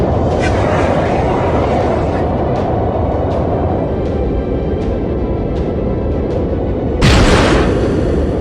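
Heavy, continuous rumbling roar of a fighter jet combat video game, with soft repeated thuds running through it and a sharp, loud blast near the end as an enemy aircraft explodes.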